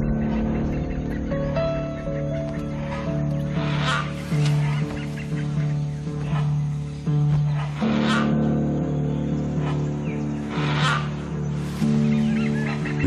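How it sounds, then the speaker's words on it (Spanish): Hornbills in the wild Thai forest give loud, honking warning cries, repeated calls rising over a steady humming background with a narrator's voice faintly beneath. "Los calaos se avisan unos a otros del peligro con sus gritos."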